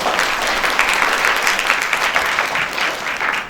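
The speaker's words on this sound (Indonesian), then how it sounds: "Tepuk tangan dulu buat saya." An audience applauds, a dense and steady roar of clapping that holds evenly at close range for several seconds.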